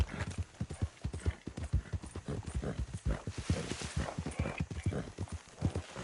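Horse hooves clip-clopping at a steady riding gait in the video game Red Dead Redemption 2, a continuous rhythmic patter of hoofbeats that is close and moderately loud, with faint game ambience beneath.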